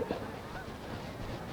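Ducks call with a brief honking quack near the start, followed by continuous outdoor background noise.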